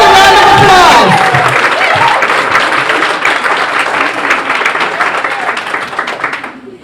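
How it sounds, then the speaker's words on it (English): Sustained audience applause from a crowd of nurses at an awards event, loud and dense clapping that starts full and gradually thins before cutting off, with a few shouts early on. "Give yourselves a round of applause."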